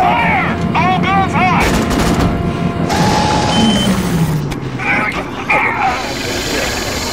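Video game gunfire with bursts of shots and booming impacts running throughout, loud and dense, layered under excited shouting voices.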